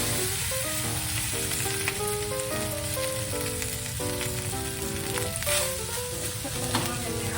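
Cooked rice fries in butter in a hot pan, giving a loud, steady, dense sizzle throughout, with music playing underneath.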